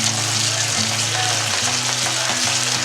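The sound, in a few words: tomato masala frying on medium-low flame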